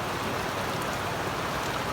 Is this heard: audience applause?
no